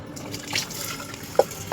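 Tap water runs briefly over toor dal being washed in a pressure cooker, a soft splashing stream with a couple of sharper drips toward the end, close and quiet.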